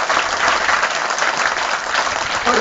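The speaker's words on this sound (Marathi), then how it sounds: "टाळ्या वाजवा बघू." Children clapping together at a clown show in Gavthan, Kolhapur, a dense, steady burst of many small hands that runs loud and even for the whole stretch, with no voices on top.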